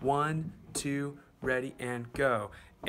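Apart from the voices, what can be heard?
None of the usual background noises is heard.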